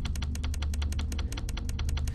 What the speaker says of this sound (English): Sorry if you hear aggressive clicking.